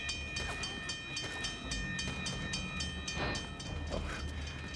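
Train rolling past in The Last of Us game, a steady loud rumble with rhythmic clickety-clack wheel beats and metallic screeching, continuous throughout with no talk.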